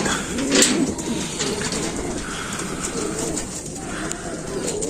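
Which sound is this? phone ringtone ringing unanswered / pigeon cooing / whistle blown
pigeon cooing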